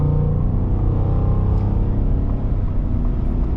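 A 2022 Ford F-150 Lariat SuperCrew V8 pickup accelerates hard onto a highway, its 10-speed automatic shifting as revs climb to around 3,500 RPM; a loud, steady engine and road rumble fills the cabin without a break.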